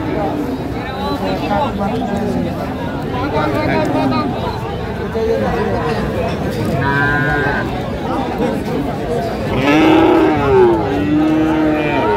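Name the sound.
heifer calves mooing at cattle market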